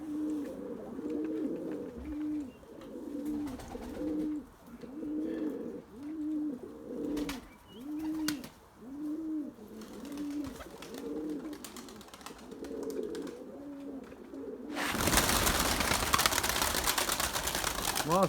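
Pigeons coo in a steady repeating rhythm, soft and close for a long stretch, before a burst of loud broadband noise takes over at the end.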